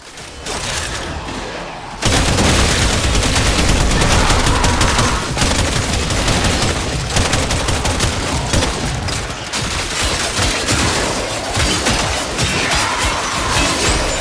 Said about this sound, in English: I'm starting to like this shotgun.